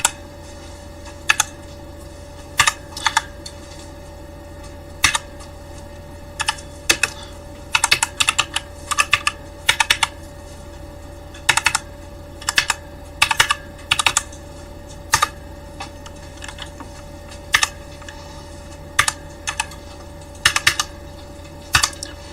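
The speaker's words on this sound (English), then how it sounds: "This is obviously bogus because I just typed it from my keyboard" Keys clack on a computer keyboard in irregular bursts of quick taps separated by short pauses, close and clear over a steady low hum, with no voices.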